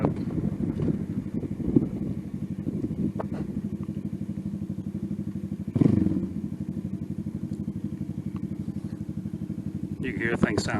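A Venom Ghost 250 dirt bike engine with a decat exhaust holds a steady, throaty low drone while riding, with wind buffeting the microphone and a couple of brief louder bursts.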